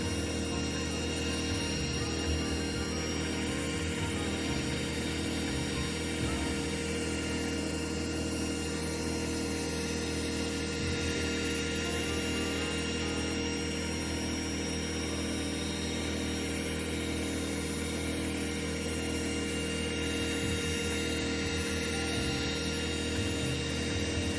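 A heat gun blows hot air onto a frozen enclosure, a continuous even blower hum and hiss that holds steady for the whole stretch with no one speaking.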